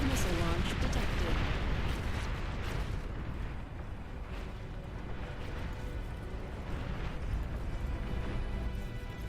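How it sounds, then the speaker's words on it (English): A nuclear missile launch in the strategy game Beyond All Reason, heard as a loud, sustained rumbling roar with layered booms and explosive bursts under constant battle noise. "Nuclear missile launch detected."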